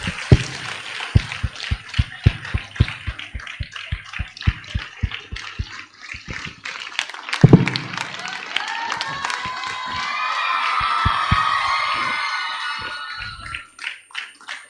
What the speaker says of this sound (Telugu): Big claps.